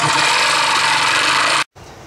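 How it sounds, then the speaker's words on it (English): A power jigsaw cuts wooden pieces for a wind chime, a loud, close, buzzing rasp that runs steadily, stops abruptly, then resumes more quietly. "Using a jigsaw, you're going to cut out the templates that you made, the body, the weight,"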